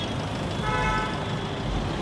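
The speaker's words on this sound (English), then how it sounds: "Bro, even here they do the honking." Car horns honk on a busy street in Kolkata, with a sustained toot rising over steady traffic rumble near the middle of the stretch.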